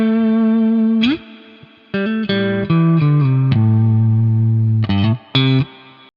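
Electric guitar played through a Valeton GP-5 multi-effects unit with a compressor in front for sustain, an EQ and a plate reverb at the end: clean sustained single notes and short phrases ringing out loud and close, with reverb tails between the notes.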